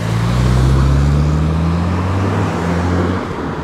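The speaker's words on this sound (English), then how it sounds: "It's gone quite busy with cars" Steady, loud road traffic on a busy village road near Hanbury, with cars passing close by one after another, their engine and tyre noise rising and falling with no one talking.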